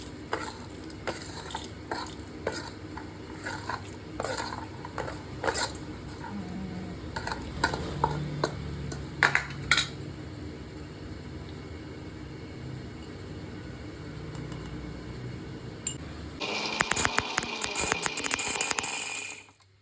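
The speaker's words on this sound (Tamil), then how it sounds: "இந்த அளவுக்கு கரகரப்பாக இந்த பருப்பு மிளகாயை உப்பு சேர்த்து நல்லா அரைச்சிக்கணும்" A mixer grinder runs briefly at the end, loud and whirring as it grinds lentils, dried chillies and salt, after quieter clinks and stirring noises.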